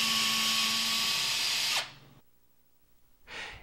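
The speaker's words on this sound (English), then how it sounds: "drill the 2 mounting holes." A power drill whines loudly for almost two seconds while drilling mounting holes for a garage door torsion opener, then winds down and stops; after a quiet gap, a brief second burst of drilling starts.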